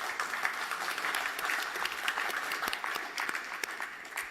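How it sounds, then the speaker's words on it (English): Dense, sustained audience applause for a panel at the FII Priority investment forum in Hong Kong, steady and full throughout with no letup. "Could you please give this great panel a great round of applause?"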